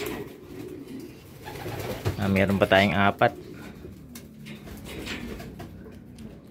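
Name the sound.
racing pigeons cooing at loft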